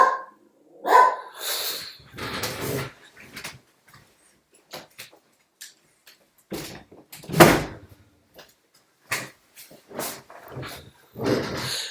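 A dog barks repeatedly in irregular bursts, some loud and close, others short and softer, separated by brief quiet gaps, with a door-like knock or two among the barks.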